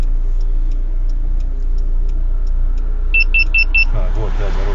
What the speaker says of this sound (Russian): Сейчас я машину поставлю.